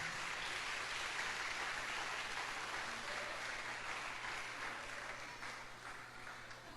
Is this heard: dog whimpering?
no